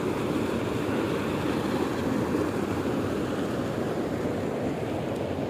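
Lake water flows over a road near a bus stand in Madanapalle, a steady broadband rush that stays constant and fairly loud throughout, with no voices.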